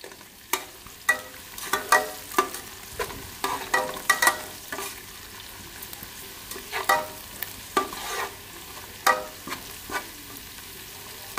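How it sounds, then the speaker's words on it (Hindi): Chopped onions cook in a pan with a steady low sizzle, while a spoon stirs and scrapes them in sharp repeated clacks at an uneven rhythm, close up, with no talking. "यहाँ पे प्याज रोन होने के लिए रख दिए।"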